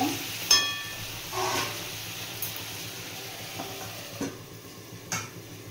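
Mutton for a Dakbungalow curry is stir-fried in a pot, its juices released, as a spatula scrapes and clatters through the meat in a few separate strokes over a low, steady sizzle.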